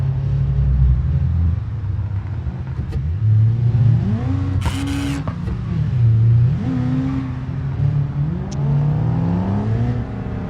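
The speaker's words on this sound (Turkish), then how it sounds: "Karşıdan da arabalar geliyor." Oncoming cars in BeamNG Drive pass a Lada 2101 Turbo on a road in Italy. A loud engine drone rises and falls several times and is punctuated by a brief whooshing burst.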